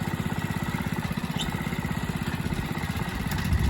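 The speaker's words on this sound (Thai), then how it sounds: "ไปขโมยรถไถป้ามาไถ" A tractor's engine putters with a fast, steady chugging pulse while plowing a vegetable plot, running at a moderate distance without pause and with no voices over it.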